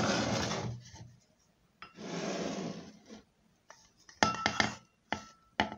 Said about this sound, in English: So what I'll do is to grab a glass cup.